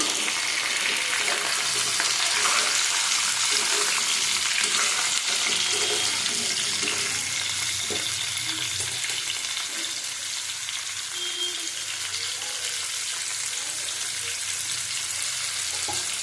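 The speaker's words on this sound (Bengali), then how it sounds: "ভালো করে আবার ভেজে নেব" Shrimp and three kinds of vegetables fry in a pan with a loud, steady hiss and crackle that runs without a break, and a few faint knocks and stirs sound beneath it.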